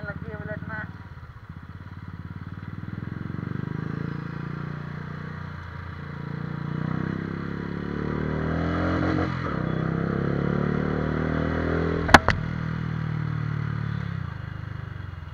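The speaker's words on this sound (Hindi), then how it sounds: "वाइब्रेशन के साथ साथ पावर भी आने लगी है बुलेट में।" Royal Enfield Bullet motorcycle engine on a night ride, a steady low thumping rumble that rises and falls with throttle, with a brief sharp click near the end.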